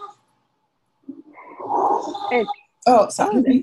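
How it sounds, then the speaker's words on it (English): A dog lets out a drawn-out, wavering howl with a horn-like tone, rising and bending over about a second and a half, then a person starts talking right after it. "That's my dog."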